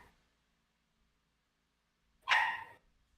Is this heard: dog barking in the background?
yes